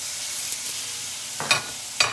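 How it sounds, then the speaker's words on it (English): Soft, steady sizzling of chicken cooking on a hot grill, with a couple of brief louder crackles near the end. "Always want to hear the sizzle."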